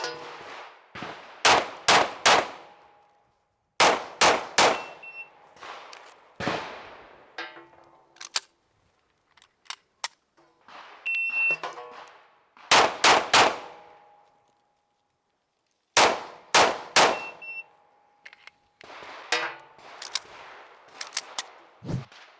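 Sharp pistol shots from a race gun ring out in quick bursts of two or three at an indoor or outdoor range, each burst separated by pauses, with a few clanging metallic target hits.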